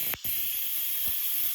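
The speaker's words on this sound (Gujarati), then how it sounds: "અહીંયા કુકરમાં 1 સીટી થઈ ગઈ છે." A pressure cooker cooking bitter gourd curry lets out a loud, continuous hissing whistle of steam, close and steady after a brief gap, then cuts off near the end.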